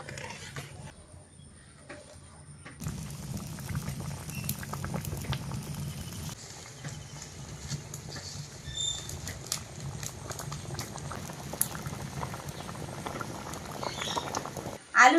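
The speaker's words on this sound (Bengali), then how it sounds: "এদিকে আলুর তরকারি বন্ধুরা ফুটে উঠেছে" A pot of potato curry with fish bubbles and simmers steadily, a soft continuous patter and gurgle heard close up and alone.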